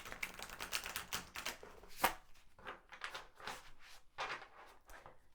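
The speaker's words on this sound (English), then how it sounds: "This deck is very difficult for me to shuffle because it's big and my hands are small." A large, oversized tarot deck is riffled and shuffled by hand, giving a series of crisp rapid card flutters and snaps in uneven bursts, close and fairly quiet with no talking.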